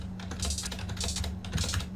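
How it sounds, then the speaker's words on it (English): A computer keyboard key tapped repeatedly, quick crisp clicks in a steady run with brief gaps, close and fairly quiet, no voices. "I just hit the minus key"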